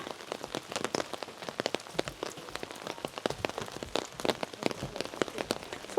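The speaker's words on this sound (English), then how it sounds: "So it is pouring the rain out today" Heavy rain pours steadily onto a surface in Waitomo, New Zealand, with dense, continuous patter and sharp individual drops close by, loud and unbroken with no voices.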